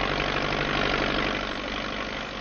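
A railroad track maintenance machine for pulling and driving spikes runs close by in 1950, a steady loud engine drone with a rapid knocking, chugging pulse and no voices.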